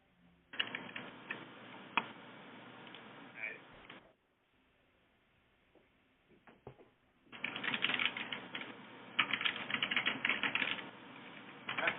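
Someone types on a computer keyboard in two dense bursts of rapid clicking, with a quiet pause between them where a few isolated taps sound, close and fairly loud.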